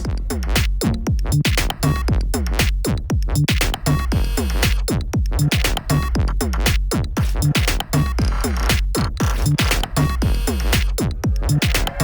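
Three pocket operator synths play together: punchy, steady drum beats with bright synth melody and bass over a dense, continuous groove, no talking.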